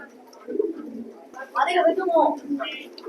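Pigeons coo softly in a loft of racing birds, low burbling calls close by with a voice speaking over them.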